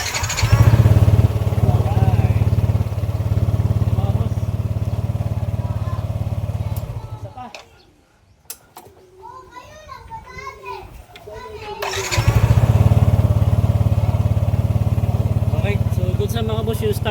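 Motorcycle engine started after a throttle body cleaning, running loud and close with a steady idle, dropping out briefly in the middle where children's voices are heard, then resuming.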